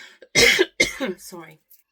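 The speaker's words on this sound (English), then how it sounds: "sorry, I had a massive coughing fit." A burst of harsh, loud coughs up close, several hacking bursts in quick succession, tapering into a throat clear.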